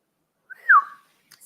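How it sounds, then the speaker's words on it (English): A person whistles a short, clear note that glides downward, heard alone in an otherwise quiet kitchen with no talking. "Did I just whistle?"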